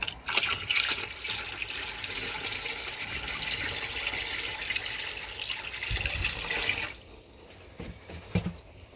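Water from a freshwater tank is dumped into a toilet, a rushing, splashing pour that runs steadily for about seven seconds before cutting off, leaving a few scattered drips and knocks.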